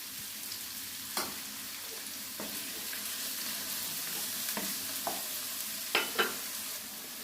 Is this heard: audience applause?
no